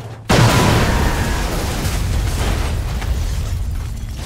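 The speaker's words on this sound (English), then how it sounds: "I wonder if I could blow up this gas station with him" A gas station blowing up in the game Goat Simulator: a sudden loud boom that bursts in after a brief quiet, then a long rumbling roar that slowly tapers off.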